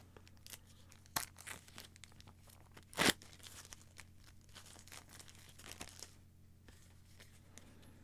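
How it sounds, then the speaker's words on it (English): A small deck of game cards being unwrapped from its packaging, with soft tearing and crinkling and a couple of sharper rips, close and fairly quiet, with no talking. "let me pop open this small deck of cards here"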